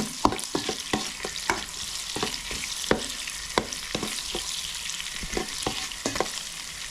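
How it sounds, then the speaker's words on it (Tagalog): Garlic, onion, ginger and cabbage sautéing in a pan give a steady close sizzle, broken by sharp clicks and scrapes of a utensil stirring them throughout. "At lutuin lang natin na maigi yung ating bawang, sibuyas at luya. Tapos sunod po natin yung repolyo."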